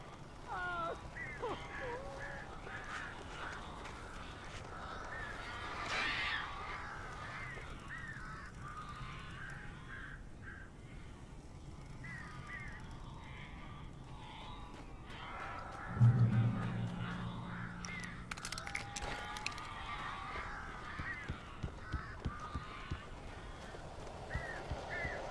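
Bird calls from the Alan Wake Remastered game world, scattered honks and caws at a distance over a low ambient bed, with one louder burst partway through.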